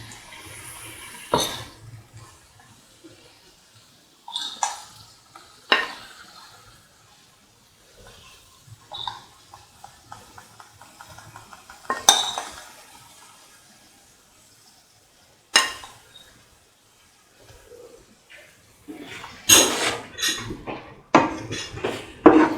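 A spoon scrapes and taps against a pan while cottage cheese tomato rice is stirred, making sparse, quiet clinks and scrapes separated by short pauses and growing busier toward the end.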